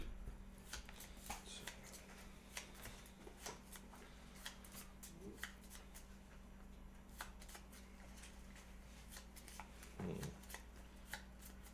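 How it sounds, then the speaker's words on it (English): Gloomhaven cards being shuffled at a table give off quiet papery riffles and flicks in short bursts, faint and close, over a low steady hum. "This goes and gets shuffled in"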